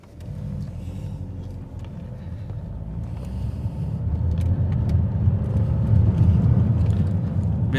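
A 2013 Vauxhall Insignia 2.0 CDTi diesel with a turbo boost fault drives along, its engine rumbling steadily from inside the cabin and swelling gradually as it accelerates.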